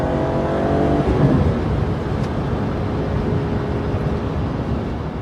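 A bone-stock BMW E46 M3 engine is heard from inside the cabin, a loud, steady, rumbling drone with a brief rising rev early on, then an even cruising tone.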